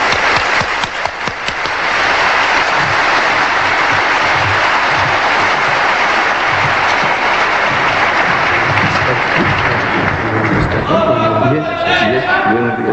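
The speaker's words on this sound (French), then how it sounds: "nous allons applaudir notre grand invité, Cheikh Ahmed Didat" A large audience gives a sustained, loud wave of applause for a guest speaker at a French-language lecture on the Quran, clapping dense and steady throughout while a voice and some tonal sounds emerge near the end.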